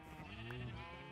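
A sheep bleats once in a modded Minecraft world, a faint, wavering baa standing alone.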